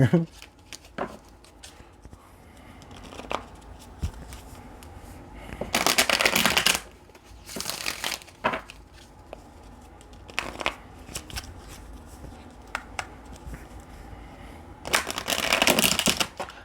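Tarot cards are shuffled close to the microphone in several separate bursts of crisp riffling and flapping. Quieter taps, card handling and some talk fill the gaps between the bursts.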